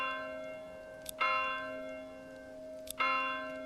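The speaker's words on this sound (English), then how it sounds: "The church bell." Two single strikes of a church bell in a medieval village building video game, each a sharp clang followed by a long ringing decay, spaced almost two seconds apart with no talk.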